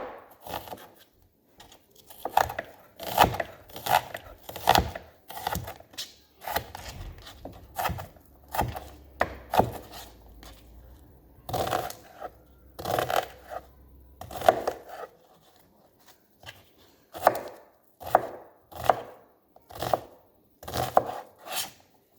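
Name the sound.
chopping vegetables into small chunks for baked ziti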